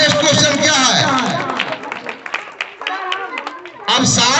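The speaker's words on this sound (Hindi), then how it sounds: "चलो सही है तो ताली लगाओ ना भाई इसको।" Students in a classroom clap together in a burst of applause, loud and close, with children's voices chattering through it and a fresh round of clapping near the end.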